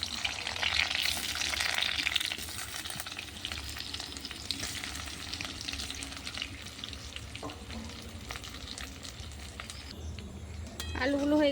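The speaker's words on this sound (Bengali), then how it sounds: "আলুগুলো ভেজে নেব লাল করে।" Boiled potatoes fry in hot oil in a pan over a clay stove, giving a steady, loud sizzle with stirring scrapes and faint voices underneath.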